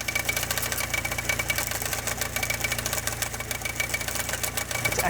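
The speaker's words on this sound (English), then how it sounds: "It's actually the roller on the automatic tensioner that is going all over the place." A loose roller on the automatic tensioner of a Porsche 944 engine rattles and clatters rapidly over the running engine, a close, constant metallic knocking with no voices.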